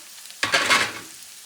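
Vegetables tipped into a hot pan of frying chicken fried rice, with a sudden sizzling burst and stirring that rises, then eases back to a softer fry.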